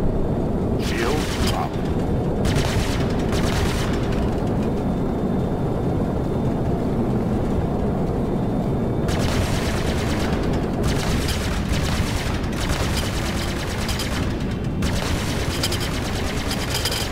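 Rapid bursts of weapon fire in a sci-fi video game tutorial, loud and dense, with short pauses between bursts over a constant roaring background, while a voice talks.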